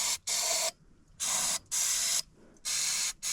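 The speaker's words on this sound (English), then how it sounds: "take some brake cleaner and spray it right into the carburetors" Four sharp hissing sprays of brake cleaner into the carburetors of a Yamaha RX1, each lasting about half a second, separated by short pauses of near silence.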